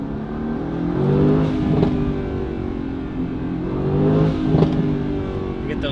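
Mercedes-AMG GT-S with a full 3-inch titanium exhaust and stock downpipes revving, a steady loud engine drone swelling in two pushes near the mic, with no talk over it.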